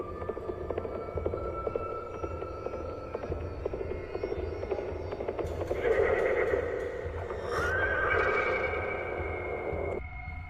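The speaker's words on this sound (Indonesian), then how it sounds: "Tiba-tiba sebuah derap langkah kaki kuda terdengar memecah keheningan malam itu." Horse hoofbeats clip-clopping along with a whinny at night, set over a low droning background hum.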